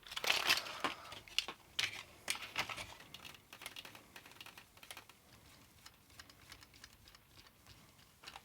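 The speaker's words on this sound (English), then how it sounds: "So the keyboard mounts back in here." A Commodore 64 keyboard being fitted back into its case during a restoration makes a quick series of plastic clicks, taps and knocks, busiest at the start and then sparser and fainter, with no talking.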